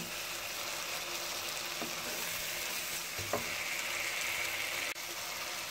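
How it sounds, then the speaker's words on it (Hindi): Spices fry in ghee for a dhaba-style mixed vegetable dish, making a soft, even sizzle. A few faint scrapes and clicks from stirring break into it. "मसाले हमारे घी छोड़ना शुरू कर दिए हैं। इसको 10 सेकंड के लिए और थोड़ा सा भून लेते हैं"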